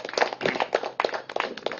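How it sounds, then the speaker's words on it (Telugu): An audience applauding at a live meditation gathering, a short burst of close, uneven handclaps with no talking. "మరి సార్ గారికి ఒకసారి గట్టిగా క్లాప్స్ పడదాం"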